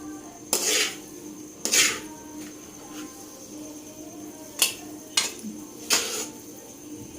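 A metal spoon scrapes and knocks against a pan while spiced okra cooked in mustard oil is dished out: four or five sharp, close clatters spaced irregularly over a quiet background.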